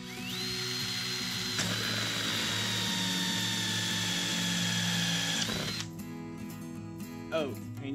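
A power drill with a hole-cutting bit bores through PVC pipe, giving a steady high whine that rises as it spins up, holds for several seconds, then stops, followed by faint clicks and handling.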